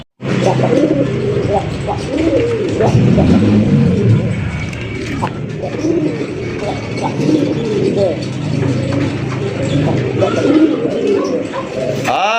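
Racing and fancy pigeons coo repeatedly nearby in soft, throaty rolls while people talk over them.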